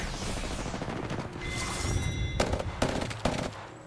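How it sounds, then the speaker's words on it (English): Rapid bursts of automatic gunfire in Apex Legends, dense rattling volleys followed by several sharp separate shots, loud and close, with no talking. "Taking fire."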